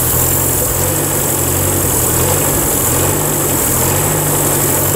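An old abandoned Land Rover engine idles steadily and loudly close by, a smooth, even rumble with a low throb and a faint high whine, with no talk over it.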